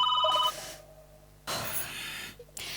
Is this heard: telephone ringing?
yes